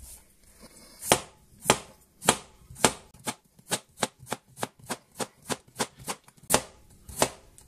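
Potatoes chopped with a knife on a board, about twenty sharp close knocks, slow and spaced at first, then quicker and steady.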